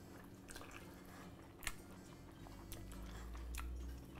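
Close, soft chewing of a bite of juicy roasted char siu chicken, quiet moist squishing and biting sounds in an irregular rhythm, with one small click, and no talk.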